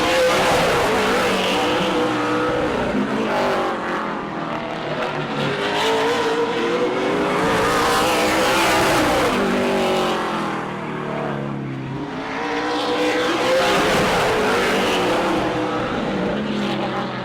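Super Late Model race cars qualifying at Auburndale Speedway roar past at full throttle, engine noise swelling and fading in loud continuous passes with no voices over it.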